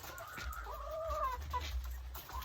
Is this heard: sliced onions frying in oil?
no